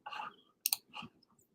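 A few quiet keyboard clicks during a live trading analysis session, with short separated taps and soft rustles in a near-silent room.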